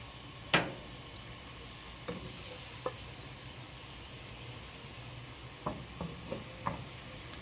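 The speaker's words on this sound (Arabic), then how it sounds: "هياخد كده تقليبه كده هو الثوم" A garlic clove fries in a pot for Egyptian rice with crab, giving a faint, soft sizzle under a scattering of sharp spoon clicks and scrapes as it is stirred, with one louder knock near the start.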